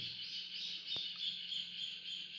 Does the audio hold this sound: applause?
no